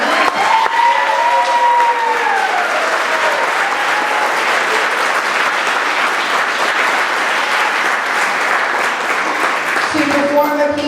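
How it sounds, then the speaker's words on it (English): An audience at a school spring band concert applauds loudly and steadily for several seconds, with some cheering, before a voice starts talking at the end. "So can you please give them another round of applause?"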